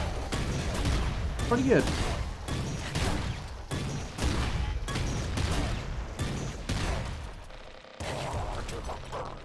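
An auto mortar in the game Nuclear Throne fires repeatedly, with heavy thumping blasts landing about every half second to second in a steady, close barrage while a voice talks over them.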